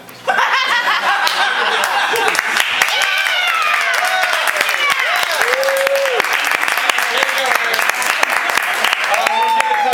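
A comedy show crowd applauds loudly and continuously, mixed with laughter and cheering, while voices call out over the clapping.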